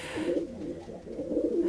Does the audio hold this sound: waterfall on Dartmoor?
no